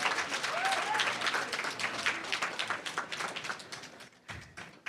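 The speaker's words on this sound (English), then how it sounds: "So please give him a round of applause." An audience at a university roundtable bursts into applause, brisk clapping that thins out and tapers off, with some voices underneath.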